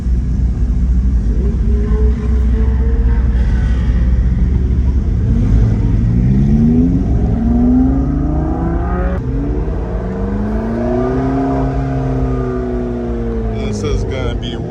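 A group of supercars on a holiday drive in Orange County rev and pull away together, engines rising and falling in overlapping waves close by, with people talking over the rumble.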